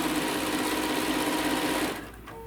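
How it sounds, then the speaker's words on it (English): Sewing machine stitching a quilt made from a panel, a steady fast mechanical whir running close and loud for about two seconds before stopping abruptly, leaving a quiet room. "we're going to stitch that down on that side"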